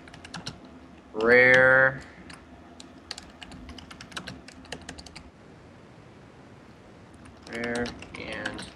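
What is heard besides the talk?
typing on a computer keyboard into a game chat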